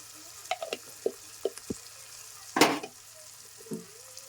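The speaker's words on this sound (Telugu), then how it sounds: "ఇప్పుడు మొత్తాన్ని తిప్పేసుకుందాం, ఒకసారి మిక్స్ చేసుకుందాం" Turmeric and ginger-garlic paste stirred in a hot pan, giving soft intermittent scrapes and taps over a faint sizzle, with one louder clatter near the middle.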